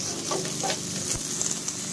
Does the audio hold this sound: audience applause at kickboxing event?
no